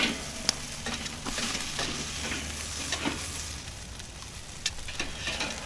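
A beef steak searing in a hot pan, a steady crackling sizzle with a few sharp pops and faint scraping as the meat is turned, close and moderately loud with no talking.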